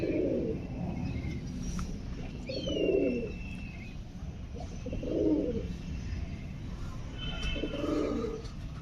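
Homing pigeons coo in soft, rounded bursts repeating every couple of seconds, fairly close, with faint chirps from other birds in the background and no talking.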